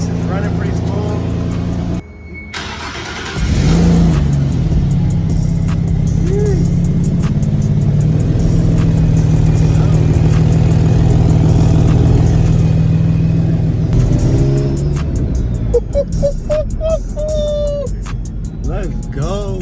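A turbocharged Nissan G37 engine idles steadily up close with a low hum, then revs up toward the end, while someone talks over it.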